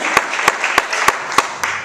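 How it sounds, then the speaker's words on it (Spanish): A church congregation applauds during a pastor's sermon: a full wash of crowd clapping with a few sharp, evenly spaced louder claps standing out in a steady rhythm, fairly loud and continuous. "Dale un fuerte aplauso a la gloria de Dios y ponte de pie"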